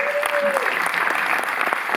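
A cinema audience at the opening of a film retrospective in Paris claps warmly, a loud, even roll of many hands with a brief whistle-like tone at the start.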